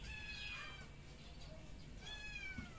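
Pet cats meow twice, at the start and again near the end, against a steady hum from a running small window-type air conditioner in a room.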